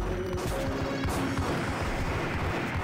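Gunfire rings out during an ambush in the top-down game GTA Chinatown Wars: a dense, continuous volley of shots and impacts with no pauses, at a moderate level and with no talk.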